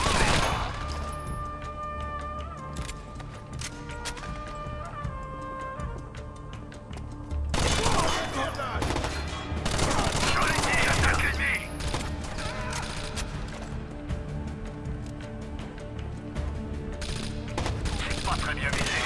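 Automatic gunfire bursts from a machine gun in the video game Rainbow Six Vegas, dense and continuous with louder stretches, mixed with game effects and a voice talking over it.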